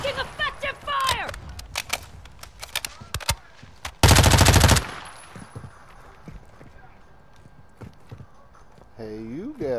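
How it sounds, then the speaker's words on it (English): Gunfire in Call of Duty: Modern Warfare II, with scattered sharp shots and one dense, loud automatic burst. Game voices and player talk run throughout. "Taking effective fire."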